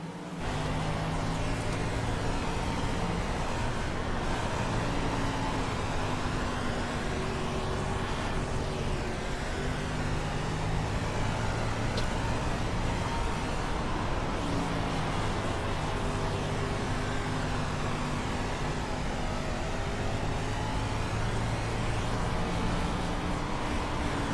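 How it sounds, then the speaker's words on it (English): An onboard race car in the iRacing video game drones continuously under throttle, its engine pitch climbing and dipping with RPM changes, loud and unbroken with no talk. "We'll let you listen to the throttle chase here."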